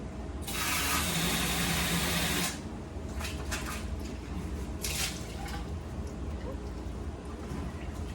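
Plain water running to rinse the tank of a Lavex floor scrubber, a loud hissing gush that cuts off after a couple of seconds, followed by quieter dripping and clatter.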